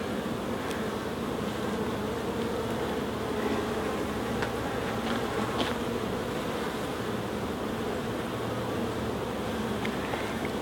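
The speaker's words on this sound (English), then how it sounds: "There's a bee coming out there, look." Honeybees hum around an open beehive during a hive inspection, a dense, continuous close-up buzz with individual bees zipping past the microphone now and then.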